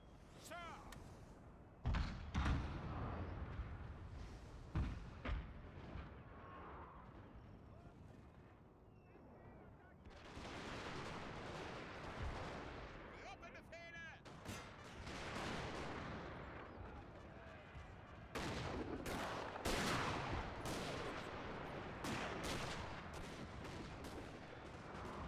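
Six-pounder cannon blasts boom at irregular intervals amid a dense, noisy battle din, with voices speaking through it, in the video game Total War: Napoleon.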